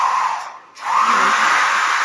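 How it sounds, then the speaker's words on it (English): Hair dryer running on its low setting, a steady whirring blower hum that briefly drops away and then resumes at a constant level, close and alone. "can you show the 2 modes of this hair dryer?"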